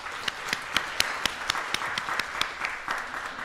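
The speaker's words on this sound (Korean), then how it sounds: "우리 전요셉 목사님과 사랑이에게 박수 한번 보냅시다" A church congregation claps for a pastor and his child, a fairly light applause in which sharp individual claps stand out with a steady, regular rhythm.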